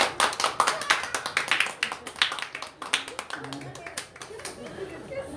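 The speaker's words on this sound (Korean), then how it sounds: "박수로" Church congregation clapping together, a dense burst of sharp applause that peaks early and then slowly thins out, with some talk mixed in beneath the claps.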